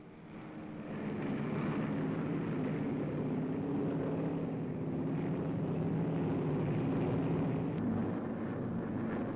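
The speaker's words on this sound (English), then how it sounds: "Taking off from runways hewn from the jungle, they roar aloft" Kitty Hawk fighter planes roar aloft from jungle runways, a broad, steady engine drone that swells in after a second and holds loud and constant, in a 1940 newsreel recording.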